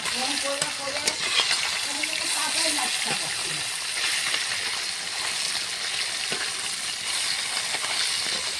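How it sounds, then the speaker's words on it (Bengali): Small fish frying in a pan with bitter gourd and potato being cooked, a steady sizzle with brief scraping and flipping noises near the start, a voice faintly present beneath. "মাছটা এক সাইডে ভাজা হয়ে গেছে, উল্টিয়ে দেবো।"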